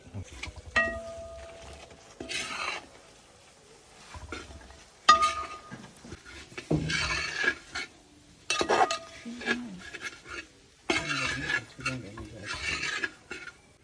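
Pounded meat being stirred into masala in a pan, giving repeated scraping, rasping strokes in bursts with short pauses between them, close and fairly loud.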